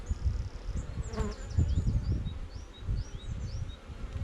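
Honeybees buzz steadily during an open hive inspection over worker brood, a dense close drone of many insects with individual bees whining past, continuous throughout.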